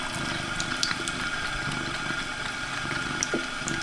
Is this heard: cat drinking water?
yes